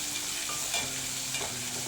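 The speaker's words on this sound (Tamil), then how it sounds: "2 பச்சை மிளகாய், வெங்காயம் சேர்த்துக்கலாம். எல்லாம் சேர்த்து வதக்கிக்கலாம்." Green chillies and onion sautéing in a pan with cumin for a Tamil lunch, a steady close sizzle of frying under light stirring, with no talk.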